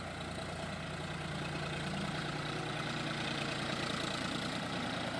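A tractor ploughing a field on a banana farm in eastern Attappadi runs with a steady, continuous engine drone, moderately distant, without voices.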